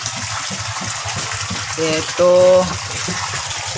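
Water rushes steadily through the filter pipe of a backyard koi pond being leak-tested, a continuous close wash of flow while someone speaks briefly in Tagalog over it.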